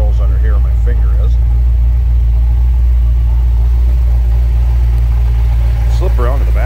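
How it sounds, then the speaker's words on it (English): A 1934 Ford Roadster street rod with accelerator mufflers idles steadily up close, its deep, even exhaust rumble constant throughout, with someone talking over it at the start and again near the end. "just a nice deep rumble coming out of those accelerator mufflers"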